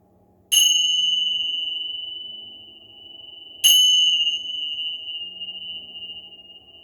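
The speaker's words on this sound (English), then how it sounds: "absorb the vibrations of the bells" Meditation bells struck twice during a chair yoga relaxation, each a clear bright ring with a long shimmering decay, the second strike about three seconds after the first, over a faint low background hum.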